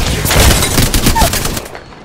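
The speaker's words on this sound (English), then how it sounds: "Shots fired." Rapid gunfire bursts in the Apex Legends video game, loud and dense for well over a second before cutting off into quieter game ambience.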